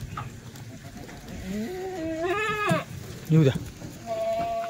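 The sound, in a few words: goat bleating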